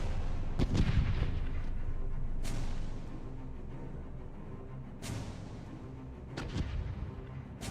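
Ship cannons firing a broadside in the pirate video game Caribbean Legend: Age of Pirates, several heavy booming shots spaced seconds apart over a continuous rumbling sea and battle backdrop.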